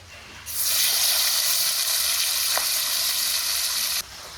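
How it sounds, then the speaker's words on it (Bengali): A loud, steady sizzle of hilsa fish head and tail frying in hot oil starts abruptly, holds evenly for several seconds, then cuts off. "এখন বাকি মাথা লেজা ভাজি।"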